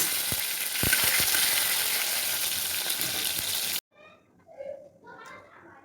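Tomato frying in hot oil with dried red chillies and five-spice, a dense close sizzle with a few sharp pops that cuts off abruptly, followed by faint voices including a child.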